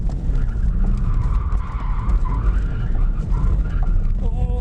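A 1.6 diesel BMW 1 Series drifts, its tyres skidding and squealing in a long, steady, loud screech over a constant engine drone, continuous for several seconds.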